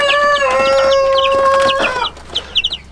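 Chickens and small chicks in an old henhouse under heat lamps: a rooster-like crow and loud clucking close by, followed by several short high peeping calls from the chicks, with no talk.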